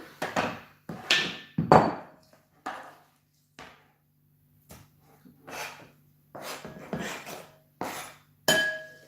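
Salmon burger mixture being transferred into a bowl: a series of sharp clinks and knocks against glass or crockery, about a dozen separate hits in uneven bursts with short silent gaps between them.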